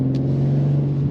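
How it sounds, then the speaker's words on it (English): A 2024 BMW M2 engine idling and burbling with a steady low rumble from inside the car on a rainy day, short and continuous without talk. "I'm still in this beautiful burbling machine."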